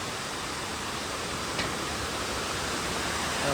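Water rushes steadily at Kamthe dam, a constant, dense roar that fills the whole stretch with no voices or other clear sounds over it.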